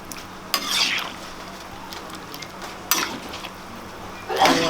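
Chicken feet being moved from a pan into a pressure cooker pot, with a few metallic scrapes and clanks of utensil on cookware, close and intermittent, under quiet background noise.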